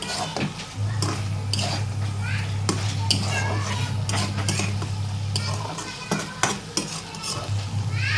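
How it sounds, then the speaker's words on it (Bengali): Fried pointed gourd is stir-fried in a pan of spiced masala, with a spatula scraping and clattering rhythmically over a close, steady sizzle and a low background hum. "ভাজা পটলগুলি দিয়ে ভালো করে কষে নেব হালকা স্টিমে।"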